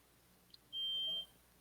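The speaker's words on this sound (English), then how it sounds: "Beep beep." A single sustained high-pitched electronic beep, about half a second long, sounds clearly over a quiet background.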